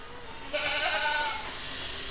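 Goats bleat in a raised condo-style goat pen housing over a hundred animals at a farm in Tha Chana, Surat Thani, Thailand; several overlapping calls rise suddenly and carry on steadily over faint background noise.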